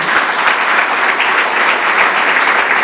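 A church congregation bursts into dense, loud applause in praise, a full continuous roar of many hands clapping at close range with no individual voices standing out.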